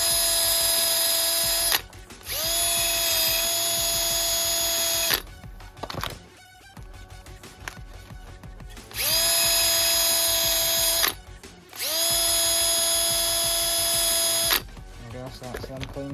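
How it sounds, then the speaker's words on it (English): A cordless drill fitted with a wire brush tip cleans used brake pad shims during a front brake job on a Citroen C1, with loud whirring bursts that scrub and rattle against the metal and short pauses between them. "I'll just use any drill to make it a bit quicker."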